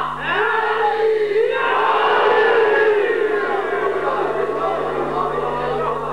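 A large gathering chants a religious slogan in praise of Mawla Ali at a Shia majlis, many voices loud and unified in one continuous rising shout.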